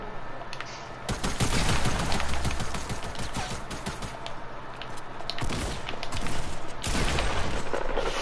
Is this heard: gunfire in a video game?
yes